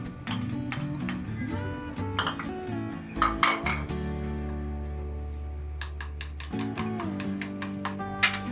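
Eggplant ball mixture with egg and fresh coriander is mixed by hand in a bowl, giving repeated clinks and scrapes against the bowl over a steady tonal hum, close and moderately loud throughout.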